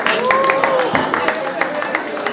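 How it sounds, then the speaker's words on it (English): Scattered clapping from people gathered at a women's cancer walk photo session, with sharp individual claps over murmuring crowd voices and talk, fairly close and moderately loud. "Please, a round of applause,"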